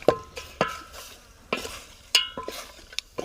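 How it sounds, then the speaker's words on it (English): Oil being stirred in a pot while cooking a wild francolin bird: a steady faint sizzle broken by several sharp scraping clinks of a utensil against the pot, spaced irregularly. "That's Shanice stirring me some oil"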